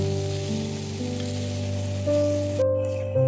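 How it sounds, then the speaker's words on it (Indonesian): Pressure-cooked meat frying in a pan with a little oil for a sambal, a steady close sizzle that runs throughout with faint clinks and no voices. "aku goreng aja dikit kayak gini."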